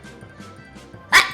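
A soft low rumble of background murmur gives way to one abrupt, close sneeze near the end, short and bright, followed by a faint tail.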